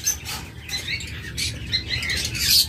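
Caged yellow lovebirds and cockatiels in a bird shop give a busy chorus of overlapping high chirps and tweets, fairly close, with light rustling beneath.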